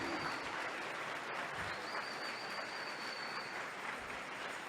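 Church congregation applauds steadily, a dense, even wash of clapping from many hands that holds at constant loudness throughout, with no voices standing out.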